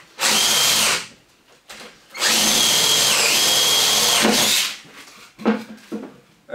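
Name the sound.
power drill drilling holes in wood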